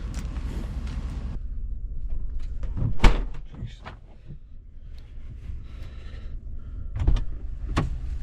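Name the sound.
vehicle back door being slammed shut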